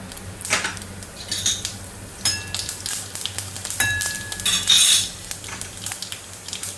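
Cumin seeds hit hot oil in a kadhai after mustard seeds have already popped, giving a light crackling sizzle with sharp metallic clinks of a spoon against the pan.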